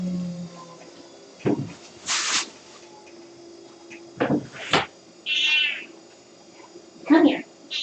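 A cat meows several times in short, separate calls, close by and fairly clear, with a person talking softly between them.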